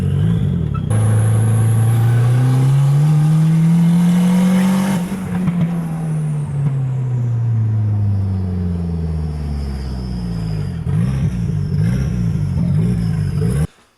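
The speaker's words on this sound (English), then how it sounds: "I'll try and do a little second gear, little pull coming up the road back up to my house" A tuned car pulls hard in second gear on a neighborhood road test drive, engine rising loudly and steadily in pitch, easing off, then building again before cutting off abruptly at the end, close and alone.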